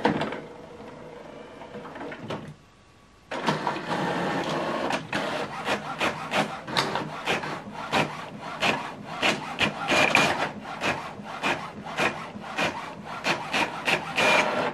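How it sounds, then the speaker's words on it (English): An HP OfficeJet 9120e printer prints a document: a low whir, a brief near-silent pause, then a long run of loud, rhythmic mechanical clacks and rubbing strokes as paper feeds through, with no voices. "This is the document we printed out from the mobile phone to this printer via Wi-Fi direct."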